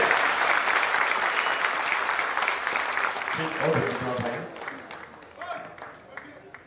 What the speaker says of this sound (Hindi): तालियों से स्वागत, तालियों से स्वागत